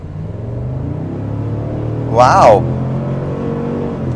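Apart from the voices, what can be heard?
Cadillac Escalade ESV 6.2 engine accelerating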